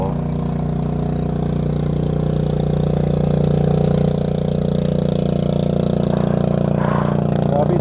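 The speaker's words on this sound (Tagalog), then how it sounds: "Ayan na ang bangkang di motor." Motorboat engine on the sea running steadily as the boat passes nearby, a loud continuous low drone with a faint rise in the middle and no talk.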